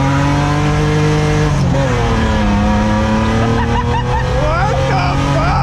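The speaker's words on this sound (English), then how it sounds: "Why is the car so torquey now?" A junkyard-built drift car's engine revs hard and continuously, loud and close with rising and falling pitch, while people talk over it.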